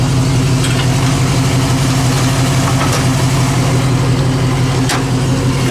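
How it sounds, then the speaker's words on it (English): A 1966 Ford Mustang coupe's 289 V8, fitted with an Edelbrock intake, idles steadily up close with a deep, even rumble that stays loud and unbroken throughout. "beautiful running V8 engine"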